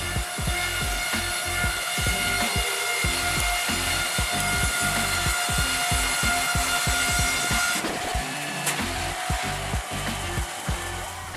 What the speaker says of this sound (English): the saw strings of the Serra KE90 wood saw are both strong and fast but still maintain absolute accuracy